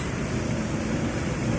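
Steady rain pours down overnight during a water outage, a dense, continuous hiss of drops that holds at an even level throughout with no talk.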